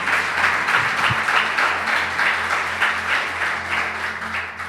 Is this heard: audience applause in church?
yes